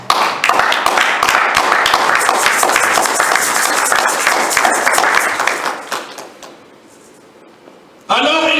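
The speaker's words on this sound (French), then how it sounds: "Si tu peux acclamer ton Dieu." A church congregation claps and cheers loudly through a French-language sermon, a dense, steady burst of applause lasting about six seconds before dying away, after which a voice comes back in.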